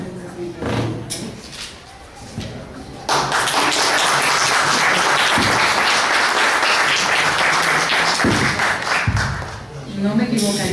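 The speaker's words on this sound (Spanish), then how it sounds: "No me equivocaría al decir que por ovación entonces hemos aprobado" Sustained applause at a formal meeting approving an appointment, a dense roar of many hands clapping that swells in and holds loudly for several seconds, with scattered talk and taps around it.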